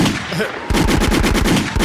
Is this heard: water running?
no